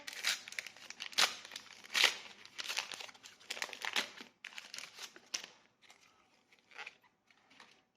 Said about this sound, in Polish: To otwieramy pierwszą saszetkę.